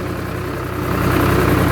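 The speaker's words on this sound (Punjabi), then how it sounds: "ਇਹ ਹੈਗਾ ਟਰੈਕਟਰ ਬਹੁਤ ਪੁਰਾਣਾ ਹੈ" A very old tractor engine idles at a paddy field in Punjab, a steady low throbbing chug that grows slightly louder and rougher partway through, with no voices.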